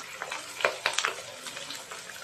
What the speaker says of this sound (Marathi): तेल असं छान तापलेल्या तेलामध्ये हे वडे सोडायचे आहे